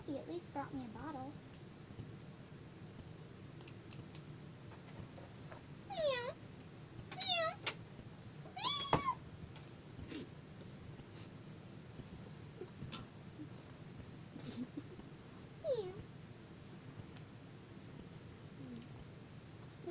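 A cat meows several times, short rising-falling cries spread across a quiet room, with soft murmuring voices in the background.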